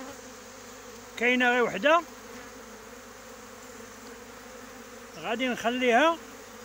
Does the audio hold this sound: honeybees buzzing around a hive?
yes